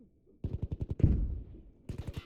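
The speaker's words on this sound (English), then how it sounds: "Oh, I was getting shot at." Automatic gunfire in a shooter video game, a rapid burst of about eight close shots followed by a heavier blast and a short second burst.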